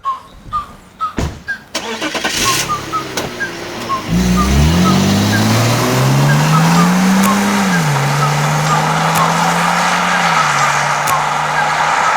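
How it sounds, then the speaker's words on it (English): A BMW E39 530i with a 3.0-litre engine starts, after a few quick clicks, then idles and is revved. The engine note rises and falls, loud and close, with no talk over it. "Today we'll be driving this BMW, so screw this intro. I just want to drive this."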